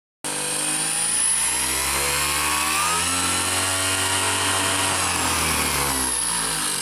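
An HPI RS4 RC car's brushless motor, geared for maximum speed, winds up to a loud, steady high-pitched whine that holds constant for several seconds, close and alone after an abrupt start.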